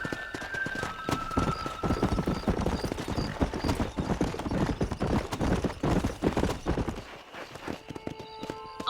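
Horse hooves galloping in the video game Red Dead Redemption, set in 1911: a fast, steady clatter of close hoofbeats that drops off near the end, with a faint voice briefly in the background.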